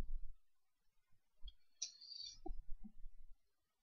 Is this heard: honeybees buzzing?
no